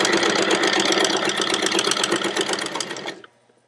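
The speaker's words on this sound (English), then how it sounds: "And now I'm just going to sew from that end all the way to the other end of my scrap of fabric in a straight line." A sewing machine stitches a straight line across a scrap of fabric, a fast steady mechanical whir with rapid needle ticks running close up for about three seconds before stopping abruptly.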